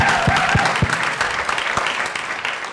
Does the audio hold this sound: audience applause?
yes